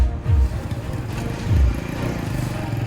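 A motorcycle riding along a newly built road in rural Antique, Philippines, its engine droning steadily at close range and rising in two brief low surges.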